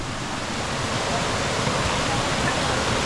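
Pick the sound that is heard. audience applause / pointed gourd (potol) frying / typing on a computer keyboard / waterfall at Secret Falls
waterfall at Secret Falls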